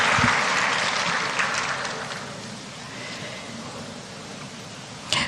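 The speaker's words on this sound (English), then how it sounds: "I think we can give ourselves a round of applause." Applause from the audience at the official launch of the Leading Justice Initiatives in Ghana, a broad wash of clapping that starts strong and slowly thins out over about five seconds, with no talk over it.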